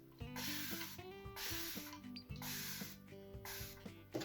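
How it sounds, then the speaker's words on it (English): A hand spray bottle misting water onto the glass of a small Xiaomi Geometry 8L smart aquarium: four or five rhythmic pump sprays with clicking trigger mechanics, close and fairly quiet. "So I'll again spray on the side"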